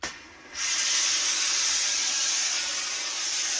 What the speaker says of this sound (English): So I'm just going to spruce it up with a little bit of steam.